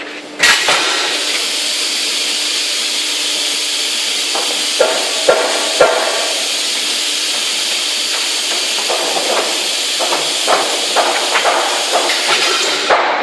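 Steady loud hissing roar throughout, with sharp hammer-like knocks and taps of timber framing being nailed scattered in the background, some in quick clusters.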